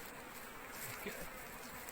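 A dense, steady hum of many honeybees buzzing together at a hive, close and continuous.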